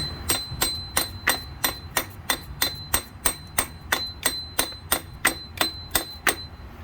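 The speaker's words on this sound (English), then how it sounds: "Give it a good old hammer." Repeated hammer blows strike a water pump on a 1991 EF Honda Civic wagon engine, roughly a dozen and a half sharp metallic hits in a fast, steady rhythm, close up and fairly quiet.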